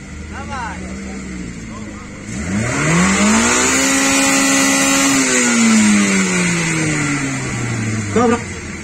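A Honda Civic engine revs up hard at an exhaust loudness contest, its pitch climbing and holding high before easing back down, with a loud, raspy exhaust note close by.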